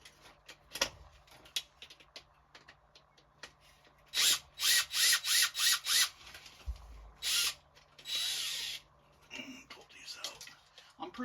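A power driver backs screws out of the distributor on a GMC Savana van in a series of short whirring bursts, separated by clicks and handling noises, close and fairly loud.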